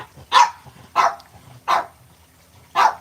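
A French bulldog barks four times, sharp and close, with short pauses between the first three barks and a longer gap before the last, in an otherwise quiet kitchen.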